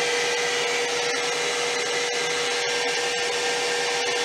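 A hairdryer runs at full power off a VTOMAN Flashspeed 1000W portable power station, making a loud, steady whooshing roar with a fixed whine, unbroken throughout and with no voices heard.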